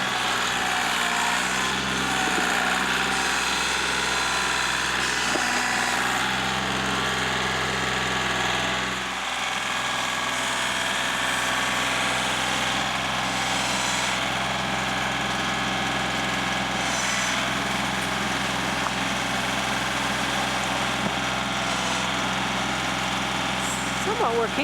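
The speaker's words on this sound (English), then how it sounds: "He's gone to turn the tractor around, and he's going to scoop up this dirt" A tractor engine runs steadily and loud while scooping frozen dirt beside a driveway, a constant droning hum with a low throb that dips briefly near the middle.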